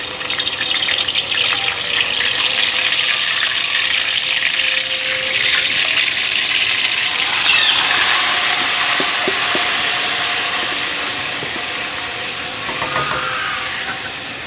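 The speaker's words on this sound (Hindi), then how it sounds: "अभी मैंने कढ़ाई में ऑयल डाला है, अभी इसमें चिकन डालूँगी।" Chicken frying in hot oil in a kadai, a steady loud hiss and crackle of sizzling that runs throughout with no voices, easing slightly toward the end.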